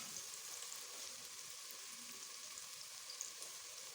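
Chopped onion and a few cloves of garlic fry in oil, a soft, even sizzle that hisses steadily and quietly throughout with no voices.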